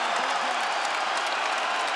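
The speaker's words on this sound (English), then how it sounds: "This crowd is on its feet." An arena crowd cheers and applauds after a hard-fought MMA bout in the octagon, a steady, dense roar of clapping and voices filling the whole moment without letup.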